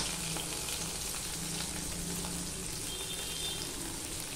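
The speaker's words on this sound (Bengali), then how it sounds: "এখানে যে আমি পেঁয়াজ কুচিয়ে নিয়েছিলাম আর 4-5টা কাঁচা লঙ্কা চিড়ে নিয়েছিলাম সেগুলো আমি দিয়ে দিলাম।" Chopped onion and slit green chillies hiss and crackle as they fry in hot oil, a steady, close, dense sizzle running unbroken throughout with no voices.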